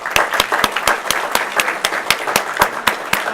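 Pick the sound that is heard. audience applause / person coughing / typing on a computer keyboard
audience applause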